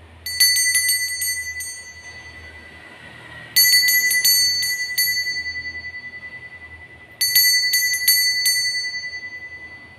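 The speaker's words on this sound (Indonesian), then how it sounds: "kita akan memulai dengan ditandai lonceng berbunyi" A bright bell rings in three bursts of rapid strikes, each burst decaying before the next, clear and close with nothing else heard.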